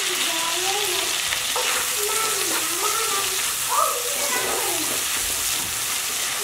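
Chilli powder sizzles in a pan while fish curry is cooked, a steady close frying hiss with stirring scrapes and a voice speaking over it.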